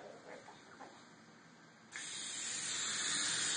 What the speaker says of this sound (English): So you want to spray all around it.